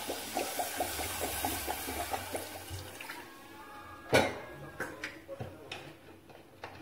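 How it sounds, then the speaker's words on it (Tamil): Water pours into a pot of eggplant and drumstick tamarind curry for a few seconds with a light splashing, then the stream stops and a couple of clinks follow. "இப்போ இதில் தண்ணி ஊற்றிடலாம்"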